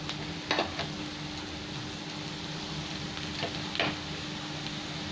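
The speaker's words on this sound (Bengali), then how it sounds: "এবার আমি চিচিঙ্গিটা তুলে দিচ্ছি।" Thinly sliced snake gourd hits fried onions in a pan, giving a soft, steady sizzle with a few light stirring clicks, quiet and close, with no talking.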